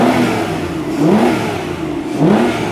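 A damaged Aston Martin DB9 with a muffled, faulty engine that cuts out when not revved is revved repeatedly, with two rising engine sweeps swelling and falling back in a steady mid-pitched drone, loud and close with no talk.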